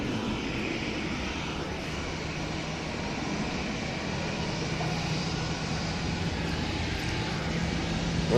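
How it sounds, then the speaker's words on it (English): A Jet2 airliner taking off at Manchester Airport during Storm Floris, its engines a steady, loud broadband roar that holds level and swells slightly at the end, mixed with wind noise and no voices. "Good rotation from this Jet2"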